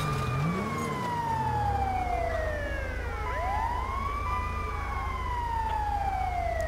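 Ambulance siren in the video game GTA 5, wailing loudly and continuously with long sweeping pitch glides over a low rumbling engine bed, another siren tone overlapping midway.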